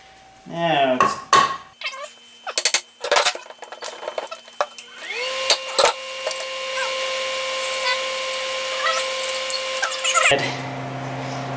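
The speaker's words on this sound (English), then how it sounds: "let's see if we can gently tap this head" Metallic taps and knocks on the cylinder head of a Kawasaki KLR engine being loosened with a 6mm Allen, a quick cluster of sharp clinks early, then a steady whirring tone under scattered clicks.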